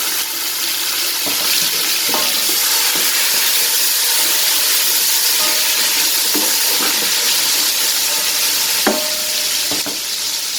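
Garlic-ginger paste frying in hot oil with crackling cumin seeds for a Pakistani fish pulao, a steady loud sizzle with occasional sharp pops and stirring clicks throughout.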